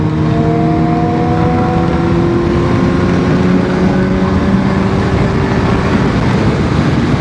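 A motorcycle fitted with a quick shifter rides along an open road on a hartal day, its engine droning steadily and loudly as it accelerates through rapid gear changes, with no voices heard.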